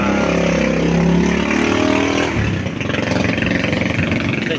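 A vehicle's engine revs hard through its exhaust on an uphill road, a loud sustained roar that drops after a couple of seconds into a lower, pulsing rumble, with no voices.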